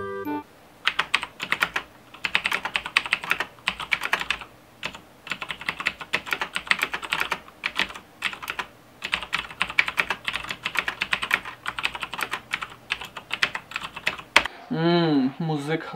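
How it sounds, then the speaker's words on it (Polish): Fast, rapid clatter of keys on a 1991 mechanical keyboard, dense bursts of sharp clicks with short pauses, close and fairly loud, ending with a brief bit of talk. "I jak napierdziela się w tą klawiaturę bardzo szybko, co mogę wam za chwilę nagrać, to naprawdę słychać."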